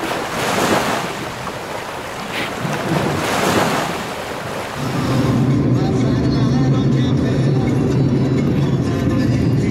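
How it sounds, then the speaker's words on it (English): Sailboat Calico Skies underway at sea off the Caribbean coast near Panama, with a steady wash of waves against the hull and loud wind buffeting the microphone, the rushing water growing heavier and more constant toward the end. "While Calico Skies slices through the waves at sea"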